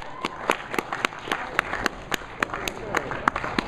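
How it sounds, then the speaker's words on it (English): An audience at an anime convention claps in a brisk, uneven burst of sharp individual claps close by, with a few hands beating out a loose rhythm for several seconds. "I'm glad the operators clap."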